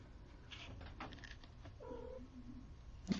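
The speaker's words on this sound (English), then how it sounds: "Hear my cat in the background?" A cat meows faintly in the background, with a soft drawn-out call amid quiet room noise and a brief knock near the end.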